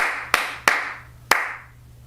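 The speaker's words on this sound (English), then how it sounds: "So I'll clap and you clap back." Three sharp, separate hand claps in an uneven rhythm, close and clear, the first two close together and the third after a longer pause, each ringing briefly in a quiet room.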